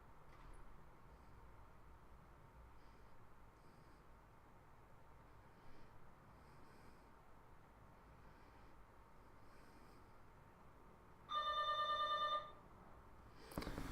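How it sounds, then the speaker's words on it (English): A doorbell chime rings once, clear and fairly loud, after a long stretch of quiet room hiss with faint scattered clicks, followed by a brief noise at the very end. "Someone is ringing on my door."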